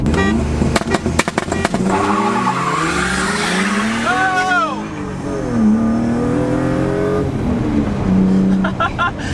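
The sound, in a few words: BMW E36 M3 racing VW Golf 1.8T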